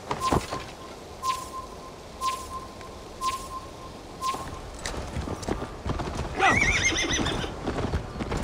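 Horse in Assassin's Creed Valhalla game: a loud whinny and steady clip-clop of galloping hooves, rhythmic thuds under a faint high tone, with the neigh rising near the end.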